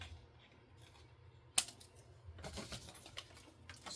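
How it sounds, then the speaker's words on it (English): Scissors cut material for a lip balm holder craft project: a sharp snip around the middle, then a run of quick, crisp cutting crunches close to the microphone in a quiet room. "I am having to take my scissors and cut it."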